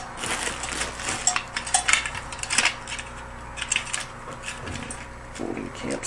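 A metal camping pot and a folding camp stove are handled close by, producing scattered light clinks, taps and rattles of thin metal in an irregular series, fairly quiet with brief louder knocks.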